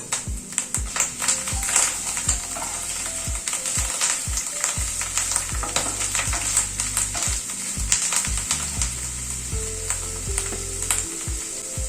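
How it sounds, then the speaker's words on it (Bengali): Garlic paste and spices frying in a pan for paneer curry, a steady close sizzle broken by frequent stirring clicks and scrapes of a spoon, with no talking. "মশলাগুলোকে সব ভালো করে একটুখানি কষিয়ে নিচ্ছি"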